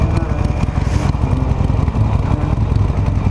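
Harley-Davidson Nightster motorcycle idling high in cold air, with a suspected loose exhaust flange bolt; a steady, close, loud engine rumble with a rapid even pulse and no talk.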